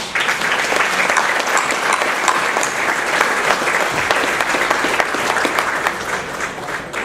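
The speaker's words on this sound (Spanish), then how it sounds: "les pido a los participantes despedir a nuestros distinguidos invitados con un caluroso aplauso" Warm applause from participants at a conference on social responsibility, a continuous wash of many hands clapping at moderate volume that holds throughout, easing slightly toward the end.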